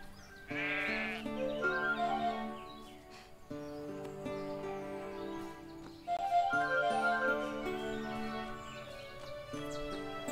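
Sheep bleats from livestock in the farming game Everdream Valley, several wavering calls repeating over a steady musical background, fairly close and clear.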